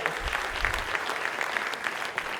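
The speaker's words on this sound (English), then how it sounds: "Yeah, give him a clap." A room full of people claps steadily for a couple of seconds, a dense, even patter of hands with no voices over it.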